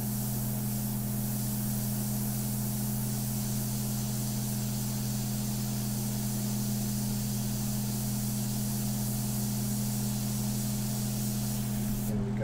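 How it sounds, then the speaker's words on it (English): An airbrush spraying a dark India ink mixture for a portrait painting gives a continuous, close, steady hiss with a low compressor hum beneath, running unbroken throughout. "I have the dark mixture in my airbrush right now"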